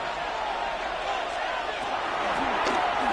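Crowd noise swelling at an NFL football video game simulation, Falcons versus 49ers on Sunday Night Football, as the crowd rises before a third down, a steady broad roar that fills the whole stretch under a commentator's voice.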